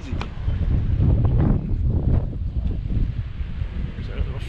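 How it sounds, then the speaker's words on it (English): Gusty wind buffets the microphone at a bay near a ferry terminal in Cataño, a loud, continuous low rumble with surging gusts throughout. "Breezy."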